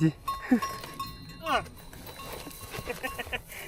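Small cows in a mountain pasture, with a few calls and bell-like tones rising and falling, plus some soft clanking, moderately close over outdoor background noise.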